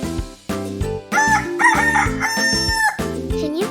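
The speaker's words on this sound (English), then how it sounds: "Roosters are known for waking everyone up in the morning with their loud crowing." A rooster crows loudly and close over a farm setting, a long drawn-out call rising and falling, set against steady background music.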